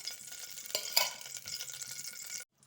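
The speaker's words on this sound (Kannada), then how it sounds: "ಗೀ ಹೀಟ್ ಆಗ್ತಾ ಇದೆ" A tablespoon of ghee heats in a pressure cooker over a medium flame, giving a soft, steady close sizzle with a few brief stirring scrapes.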